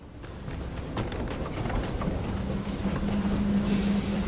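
A train rolls by in the video game My Time at Sandrock, a steady rumbling rush with a low droning tone that builds slightly and holds throughout.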